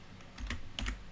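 Keystrokes on a computer keyboard as a command is typed into a Windows command prompt, a few quick close clicks clustered in two short bursts, with no talking.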